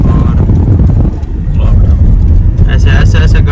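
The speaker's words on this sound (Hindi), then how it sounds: "ऐसे ऐसे ऐसे गाड़ी की स्पीड में इजाफा होता जाएगा।" A car accelerating on an open road at the Wadi Jinn in Madina, a loud low rush of engine and road noise under a voice, with some wind buffeting on the microphone.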